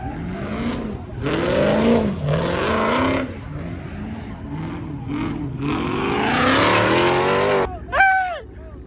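A Dodge Hellcat engine revs repeatedly while driving through city streets, rising and falling loudly, with a long climbing pull late on and a brief squeal near the end.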